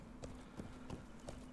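Horse hooves in the game LoTRO clop in an even, unhurried walking rhythm, four soft thuds over a steady low background hum.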